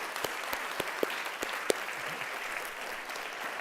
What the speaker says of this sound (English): Can we give that group a round of applause and thank you?